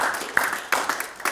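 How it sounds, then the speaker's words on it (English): A church congregation claps hands during a worship service, a brief burst of scattered, uneven claps with a few sharper near ones standing out. "Give the Lord a hand clap."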